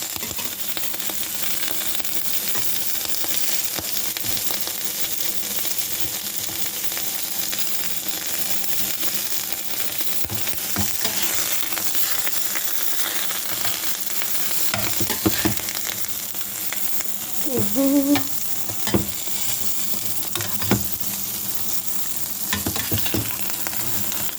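Pancakes frying in butter on a stovetop pan, a steady close sizzle with occasional soft clicks and scrapes of a utensil, no talking.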